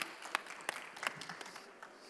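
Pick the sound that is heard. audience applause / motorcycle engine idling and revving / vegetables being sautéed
audience applause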